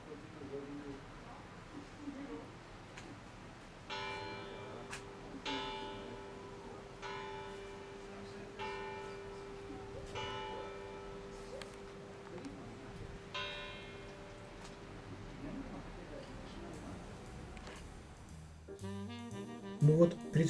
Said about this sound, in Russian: Колокола хоть и прикидываются древними, им немногим более 100 лет.